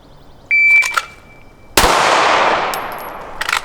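Pistol shots in a timed shooting drill, a sharp start beep followed by a loud broadband blast at about two seconds that rings out, with a few faint clicks and another burst near the end; no talking.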